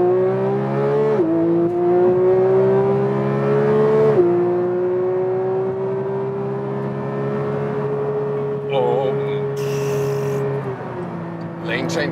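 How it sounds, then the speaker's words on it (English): Porsche 911 GT3 Touring engine pulling hard on a German autobahn, a loud steady drone with rising and falling pitch through gear changes, heard from inside the cabin under road and wind noise. "There's less sound dampening, so you hear more of the engine, but also more from everything."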